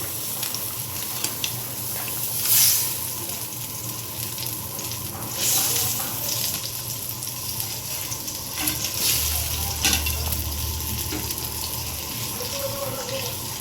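Rohu fish pieces go one by one into a simmering red curry gravy, giving a continuous bubbling hiss with soft splashes and occasional clinks, heard alone at moderate loudness.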